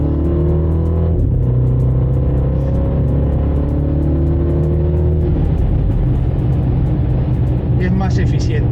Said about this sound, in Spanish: si lo seleccionamos en modo Sport, ya las revoluciones van mucho más arriba, de manera constante